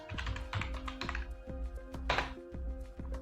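Keys clatter on a computer keyboard in quick irregular bursts and taps, close and clear, with a steady low hum underneath and no voice.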